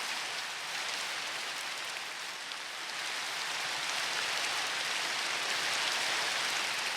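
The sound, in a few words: rain falling in a video game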